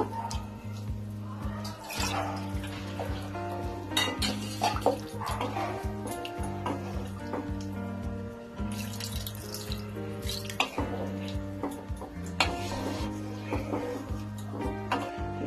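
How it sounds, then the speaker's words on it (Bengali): Water runs steadily into a pan of bhetki fish curry, a continuous splashing pour with faint clinks of cookware over a low hum. "1 কাপ জল দিয়ে দিলাম, আরো একটু জল দেব।"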